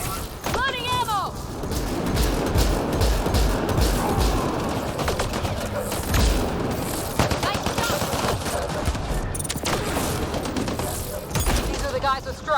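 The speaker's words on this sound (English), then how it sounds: "What are they shooting at us for?" Enemy gunfire rattles through a Mass Effect Andromeda firefight as dense, continuous bursts of automatic fire and sharp cracks pile up over several seconds, loud and close, with voices talking over the fight.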